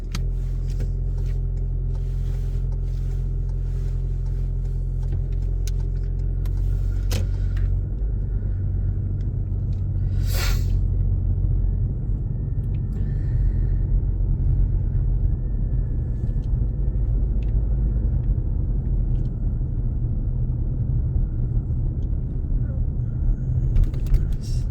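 A car pulls away during a driving lesson, its engine a low, continuous rumble that holds and rises slightly as it gets moving, with faint voices and a few light knocks over it.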